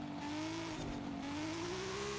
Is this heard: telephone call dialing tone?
no